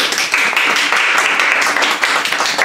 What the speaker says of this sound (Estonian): Palun nüüd veel üks aplaus